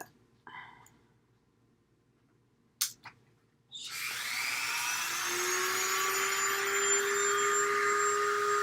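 A drill bit boring into a resin model kit piece, starting after a few faint clicks and taps and then holding a steady high whine that climbs in pitch, close and continuous.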